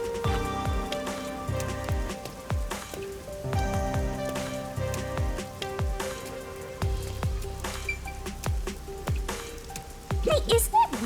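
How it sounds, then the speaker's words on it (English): Steady rain falls on a city street in the video game Rain Code, a constant soft patter lying under prominent game music with tonal notes and thumps throughout. "isn't it weird how it's not flooded, given how it's always raining here?"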